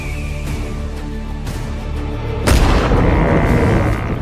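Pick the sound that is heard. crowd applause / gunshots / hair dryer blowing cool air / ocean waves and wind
gunshots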